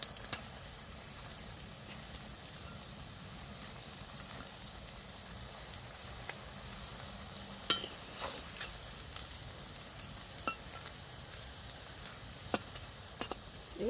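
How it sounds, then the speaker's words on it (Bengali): Balls of banana flower frying in hot oil while being turned, a steady soft sizzle with scattered sharp clicks and taps from a spoon against the pan, close, no talking. "সব বলগুলোকে দেখো ঘুরিয়ে ঘুরিয়ে আমি ভেজে নিচ্ছি।"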